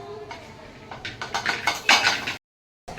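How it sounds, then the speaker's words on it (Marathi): Children play with a kadhai (wok), producing a run of close metallic clanks and scrapes that grow busier before stopping abruptly. "कढई घेऊन खेळतात"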